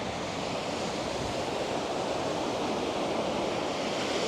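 Surf on a beach at Arrieta, Lanzarote, a continuous broad wash of waves and wind, steady and moderately loud with no distinct breaks or voices.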